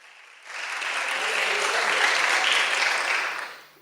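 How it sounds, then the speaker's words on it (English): Audience applause at the close of a democracy forum swells up from quiet, holds as a dense, even burst of many hands clapping, then tapers off toward the end. "A round of applause for you."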